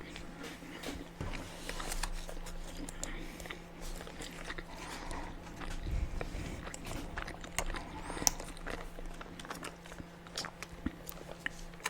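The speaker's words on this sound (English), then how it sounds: "I know some people like hearing the chewing sound" Close-up chewing and biting during a chatty mukbang meal, with soft repeated crunches and wet mouth sounds scattered irregularly over a steady low hum, intimate and near.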